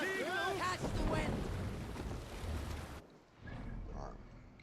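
A sailing ship on the sea in Assassin's Creed Valhalla, with a steady rush of wind and water and voices calling out over the top, then a brief drop before the wash of sea and wind returns more softly.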